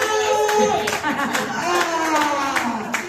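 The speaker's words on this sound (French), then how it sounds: "On acclame encore fort pour Loreto" A church audience claps for Loreto, a close burst of rapid handclaps with crowd noise, while voices talk over the applause.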